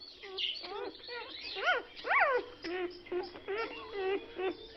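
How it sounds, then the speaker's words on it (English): Small Yorkshire Terrier dogs yap and whine in quick high-pitched bursts, an irregular run of short barks and whimpers heard at moderate distance, fairly thin and somewhat muffled. "They're Yorkshire Terriers. They're very small."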